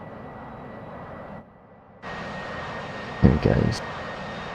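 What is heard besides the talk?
Harrier jet taking off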